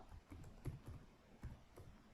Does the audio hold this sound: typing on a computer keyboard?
yes